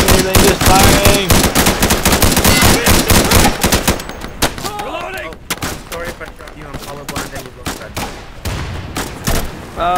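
Gunfire in the Insurgency multiplayer video game: dense, loud rapid automatic bursts for the first few seconds, then scattered single shots and shorter volleys, some nearer and some more distant.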